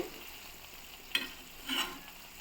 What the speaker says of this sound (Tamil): பச்சை மிளகாய் போட்டு கொஞ்சம் நேரம் ஒரு அரை நிமிஷம் போல் நல்லா வதக்கிட்டு